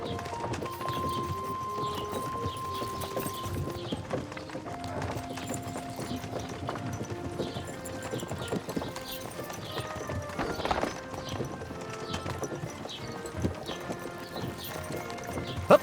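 Horse hooves clip-clop at a gallop in Kingdom Come Deliverance II, a steady rhythmic beat under continuous music with an occasional whinny.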